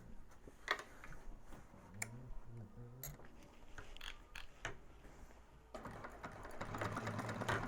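A sewing machine top stitches a bag seam through the bottom piece, heard faint and at a distance as ticking, gear-like clicks with scattered handling noise and a busier mechanical stretch near the end.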